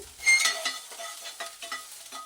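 Chopped garlic and ginger dropped into hot ghee, giving a sharp burst of sizzling that quickly settles into softer, uneven crackling, with no one speaking.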